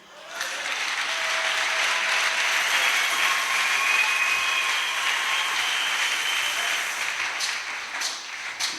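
Steady applause from a church congregation for a preacher fills the space, dense clapping rising quickly and holding loud throughout before easing slightly near the end.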